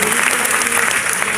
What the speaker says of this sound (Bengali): বাপ্পাদার জন্য একটা জোরে হাততালি হবে